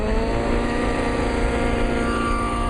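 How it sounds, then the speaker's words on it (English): A lean-running RC nitro engine screaming at high, steady revs, a loud continuous buzzing drone with no pauses and no talking. "this engine now is excessively lean. You're going to be able to tell the difference between the two"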